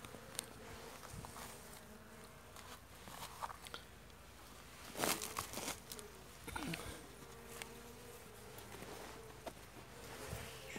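Honey bees from a weak colony buzz around an opened hive during an inspection, a faint irregular drone with individual bees passing close by amid soft handling sounds and light rustling.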